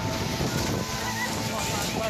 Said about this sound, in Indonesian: rekaman video amatir yang menunjukkan detik-detik terjadinya angin puting beliung di Desa Ngelipar, Gunung Kidul, Yogyakarta